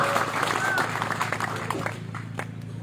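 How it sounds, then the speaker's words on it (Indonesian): Crowd applause at a political rally, with dense clapping and noise holding steady before thinning out, while a voice talks over it. "Tepuk tangan dulu untuk Bapak Ibu semua."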